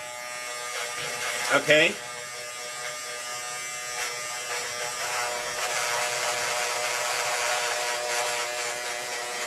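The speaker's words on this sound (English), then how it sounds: "Make sure it has a turbo button. It speeds up the blades so that they can cut really nice" Electric hair clipper running on turbo setting, a steady high-pitched buzz that holds through the clip after a brief spoken word near the start.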